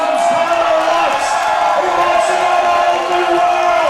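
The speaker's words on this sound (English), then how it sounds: "Give him a round of applause." A crowd in the hall at the Western Canadian powerlifting championships cheers and calls out in a dense, steady roar, with an announcer's voice talking over it.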